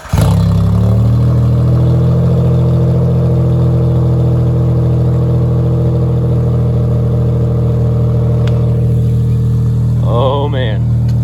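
A Geo Metro engine fitted with an aftermarket Evil Energy exhaust cranks, catches and settles into a steady, loud idle with a deep low drone, then revs briefly near the end.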